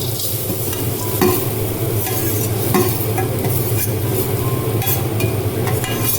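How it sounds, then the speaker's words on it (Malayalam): Grated coconut roasting and being stirred in a pan for ulli theeyal, a Kerala shallot curry, gives a steady close-up dry sizzle with repeated scraping strokes of a spoon across the pan, continuous throughout with no voices. "തീയലിന് ആവശ്യമുള്ള തേങ്ങ വറുത്തെടുക്കാം"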